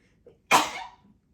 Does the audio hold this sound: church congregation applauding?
no